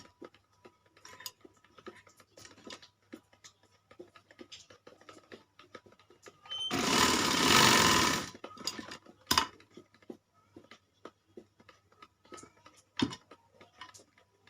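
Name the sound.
sewing machine stitching a child's kalidar kurta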